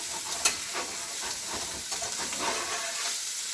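Homemade sausage gravy sizzles steadily in a pan over high heat while a spoon stirs and scrapes through it, a close, continuous hiss with no talking.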